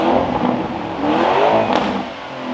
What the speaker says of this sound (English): This is a factory exhaust.